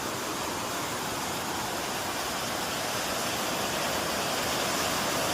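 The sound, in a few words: small streams flowing on the road to Dhopeshwar temple in rain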